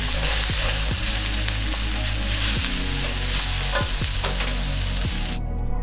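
Seasoned instant noodles tossed in a hot wok, a continuous loud sizzle broken by several sharp scraping and clanking strokes of the spatula in a quick irregular rhythm.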